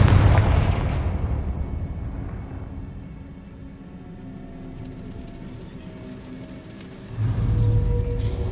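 Blasting-spell explosion in the Hogwarts Legacy video game: a loud, deep boom that rolls off into a long rumbling decay, then a second heavy low blast near the end, without speech.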